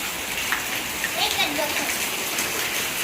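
Heavy rain pours steadily in cold weather, a dense, even hiss of drops on surfaces with soft splashes throughout, close and continuous.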